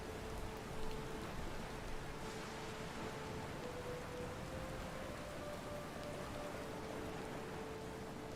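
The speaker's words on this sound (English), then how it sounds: "Hats and cloaks turned against the rain. The crew guide the Defiant through the unending downpour." A rainstorm at sea in the video game Pillars of Eternity II pours steadily on the ship Defiant as a constant hiss of downpour, with a faint tonal hum beneath and no speech.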